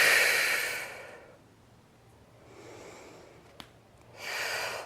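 A deep, audible inhale during a reformer Pilates exercise, loud and close, followed by a quieter breath in the middle and another rising inhale at the end, with a faint click between.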